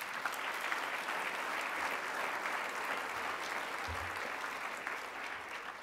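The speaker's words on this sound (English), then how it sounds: "I think that deserves a round of applause." Sustained applause from an audience at an MLK diversity awards ceremony, steady dense clapping filling all six seconds at an even, moderately distant level.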